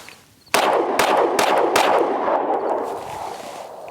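A Springfield Armory Hellcat Pro pistol fires Blue Line 90 grain +P ammunition: four sharp, loud shots at roughly half-second intervals, each followed by ringing echo that fades out afterward.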